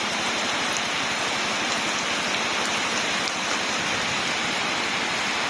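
Steady, heavy rain pours down continuously, a dense hiss of drops hitting surfaces with no voices.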